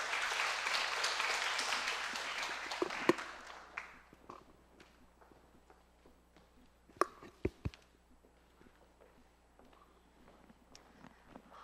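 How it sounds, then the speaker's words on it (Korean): A seated audience at a Korean staff seminar applauds as the final speaker comes up. The clapping is dense at first, fades over about four seconds, and then gives way to scattered footsteps and knocks in a quiet room. "여러분 큰 박수 부탁드립니다."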